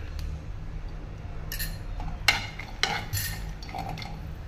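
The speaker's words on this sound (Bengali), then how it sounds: "মাখনা, কাজু আর পিস্তাচিও আমি একসঙ্গে ড্রাই রোস্ট করে নিচ্ছি, অল্প সামান্য একটু ঘিয়ের ছিটা দিয়ে।" Fox nuts, cashews and pistachios dry roasting in a pan with a splash of ghee, scattered light clinks and scraping stirs rising over a low background hum, a few sharper knocks near the middle.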